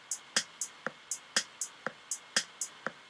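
A simple programmed drum loop in Ableton, crisp snare hits alternating with bright hi-hat ticks in a steady, even pattern, clean and moderately quiet with no talk.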